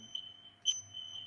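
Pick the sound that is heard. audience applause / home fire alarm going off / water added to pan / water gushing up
home fire alarm going off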